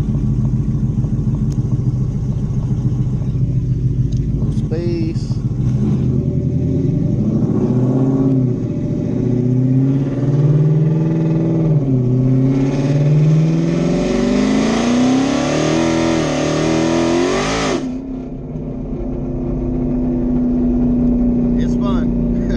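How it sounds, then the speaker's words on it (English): A car engine revs through a part-throttle acceleration pull, rising in pitch through several gears with audible shifts, loud and close, then dropping off to a quieter idle near the end. "We'll try to get a little pull here, but I'm not sure if it'll hook up. Just a little part throttle pull."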